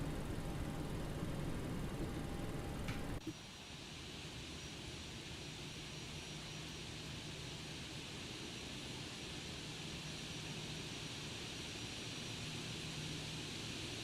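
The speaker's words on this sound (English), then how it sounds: "we've been cleared for takeoff, ladies and gents, and here we go" A simulated Boeing 737NG jet in X-Plane 12 roars through its takeoff roll, a broad steady engine rumble with a whining tone that drops sharply after about three seconds, then continues as an even, quieter drone.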